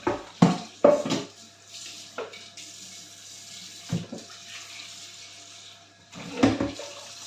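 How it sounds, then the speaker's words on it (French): Tefal pans scrubbed with a sponge under a running kitchen tap: a steady hiss of water broken by several short, louder bursts of splashing and scrubbing, close and with no talking. "comme c'est des Tefal, je préfère les laver directement avec une éponge"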